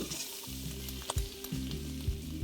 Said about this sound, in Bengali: আর তেলটা গরম হয়ে গেলে আমি এখানে দিয়ে দেবো রসুন কুচি।